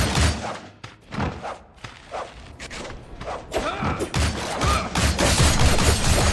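Gunfire and impacts from the co-op action game Shank: a busy run of repeated shots and heavy thuds, with fast whooshing movement sounds in between. It plays loud and close and stays dense throughout, with no talking.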